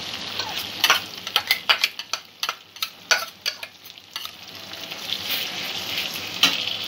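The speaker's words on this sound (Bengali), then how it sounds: "দইয়ের মিশ্রণটা দিয়ে আরও 2-3 মিনিট একটু মশলাটা কষিয়ে নেব।" Yogurt mixture and spices frying in a pan for a rohu fish curry, a continuous sizzle broken by a quick series of scraping stirs and utensil knocks, close and loud with no talking.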